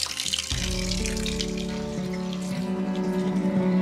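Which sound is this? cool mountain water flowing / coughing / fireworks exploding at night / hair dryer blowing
cool mountain water flowing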